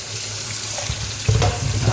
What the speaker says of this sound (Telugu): బాగా కడిగేసి నీళ్ళన్నీ ఉడగొడదాం